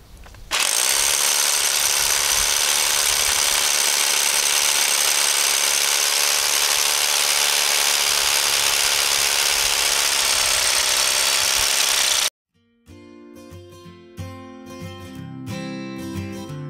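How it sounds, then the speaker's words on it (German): Hammer drill boring through an exterior house wall for an outdoor water tap pipe, a loud, continuous rattling grind close up for about twelve seconds, then an abrupt stop followed by quieter music. "So, das Loch habe ich jetzt gebohrt."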